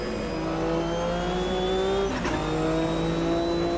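A Group C race car's turbocharged six-cylinder engine in Automobilista 2 holds a steady, loud drone with a brief burst of wastegate chatter midway, heard alone.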